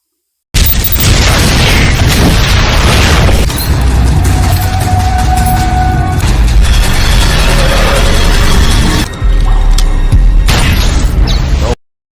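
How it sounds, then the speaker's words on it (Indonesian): A loud, sustained blast from a bomb set off in an action film, with booming, crashing debris and rumble filling the whole stretch, a brief dip near the end before the roar resumes. "saat itu pula Catalea meledakkan bom untuk jalur melarikan diri"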